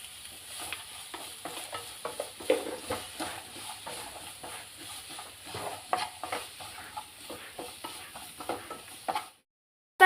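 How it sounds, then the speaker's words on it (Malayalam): Onions with added salt sautéed in a pan, stirred steadily with a utensil, giving repeated scraping strokes over a constant close sizzle, the frying cutting out just before the end. "ഇനി നമുക്കിതിലേക്ക് ഉപ്പും കൂടെ ചേർത്തിട്ട് നമുക്ക് ഫുള്ളൊന്ന് ഇളക്കി കൊടുക്കാവേ"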